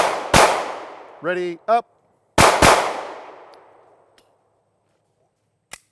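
Sharp, loud SIG P365 FUSE pistol shots crack outdoors with a long ringing decay: one shot, then a close pair after a brief spoken command, with a faint click near the end.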